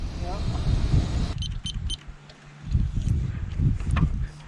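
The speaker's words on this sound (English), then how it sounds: "Satisfying beeps" Short electronic beeps, a few bright tones in quick succession, sound close by with a vehicle's steady rumble and outdoor wind around them, and people talk nearby on a cold, windy trail run.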